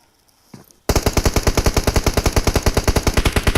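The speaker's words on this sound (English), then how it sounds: "see shots coming out onto Dan the Reaper" Video game match gunfire: after a brief quiet start, loud, close automatic fire breaks out in rapid, evenly spaced bursts that continue steadily to the end.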